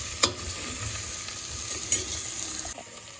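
Paya mutton trotters fry in a pan, giving a steady moderate sizzle with a couple of sharp clinks from stirring near the start and midway.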